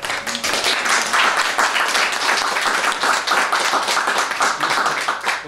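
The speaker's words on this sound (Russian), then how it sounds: "пожалуйста, аплодисменты." Audience applause at a concert of a Tatar singer, dense steady clapping from many hands filling the hall, loud and sustained without a break.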